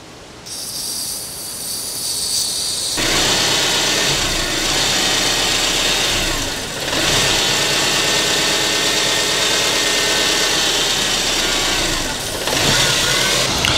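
A 2006 Subaru Impreza engine runs unevenly under load, a loud, continuous mechanical roar with brief dips and surges in level, close to the listener and with no talking over it.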